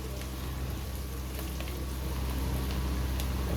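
Eggplant slices frying in a pan, a steady broadband sizzle holding level throughout with no talk over it.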